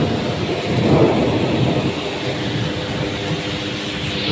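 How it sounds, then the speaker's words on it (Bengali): A fierce thunderstorm in Kishoreganj, Bangladesh, with strong wind and heavy rain: a dense, steady roar of downpour and gusts with low rumbling underneath, loud and continuous throughout, no voices. "প্রচুর বাতাস, হ্যাঁ, সেই সাথে মানে প্রচুর একটা বৃষ্টি"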